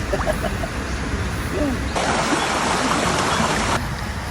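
Steady rushing water fills the scene, a continuous broadband wash like a flowing stream, with faint voices murmuring underneath.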